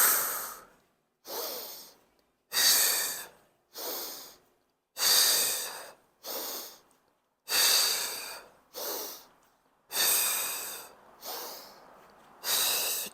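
Close, loud breathing during a mat Pilates exercise, about a dozen regular breaths in and out with short silent gaps between them, some sharp and forceful like snorts and sighs.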